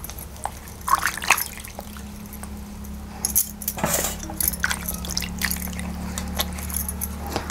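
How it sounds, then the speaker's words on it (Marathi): Sweet potatoes are washed by hand in water, giving irregular splashes, drips and clinks close by, with a steady low hum underneath and no talking. "आता आपल्याला हे स्वच्छ धुवून घ्यायचं आहे"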